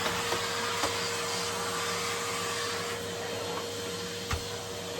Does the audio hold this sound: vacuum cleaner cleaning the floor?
yes